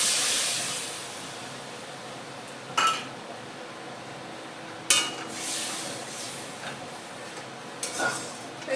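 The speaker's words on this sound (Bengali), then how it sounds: "আর একটু জল ছিল, দিয়ে দিচ্ছি।" Water poured into a hot cooking pan for a Bhola bhetki fish curry with mustard and poppy seed. It gives a brief bright hiss at the start, then a quiet simmer broken by a few sharp clinks of a utensil against the pan.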